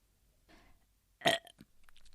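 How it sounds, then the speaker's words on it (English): A single loud, guttural burp erupts in a quiet setting, followed by a few faint rustling sounds. "I have to burp again"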